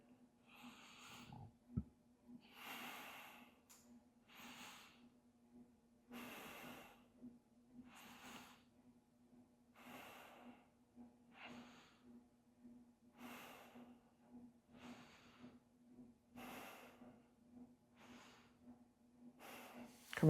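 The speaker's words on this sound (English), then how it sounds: "just take a couple of breaths together" Slow, deep breaths come and go during a hatha yoga session, about a dozen soft, airy inhales and exhales evenly spaced, close and quiet over a faint low hum.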